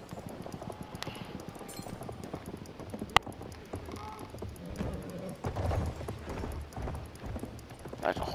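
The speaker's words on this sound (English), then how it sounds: "There's a horse outside my door." Horse hooves clip-clopping just outside a door in a video game, steady hoofbeats under game ambience with brief sharp sounds.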